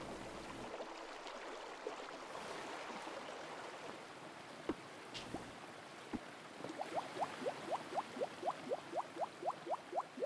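A rushing video game waterfall fills the scene with steady broadband water noise, joined later by a quick regular series of splashy chirps as a character swims up it.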